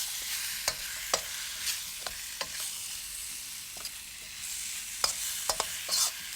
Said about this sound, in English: Continue stir frying that until the chicken is nice and lightly brown.